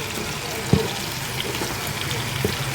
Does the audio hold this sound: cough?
no